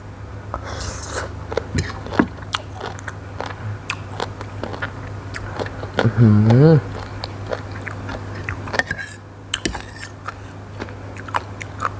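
Close, crunchy bites and steady chewing of spicy Korat-style som tam papaya salad, with sharp crisp crunches repeating through the meal and a brief hummed voice partway through.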